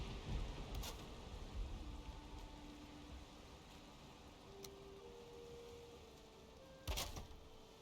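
Soft, steady rain hiss in the video game Valheim, fairly faint and continuous, with a couple of brief louder bumps near the start and end.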